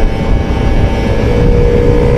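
A motorcycle ridden along paddy-field roads in Malaysia gives off a steady, close engine drone with constant loudness and no pauses, and no voices are heard over it.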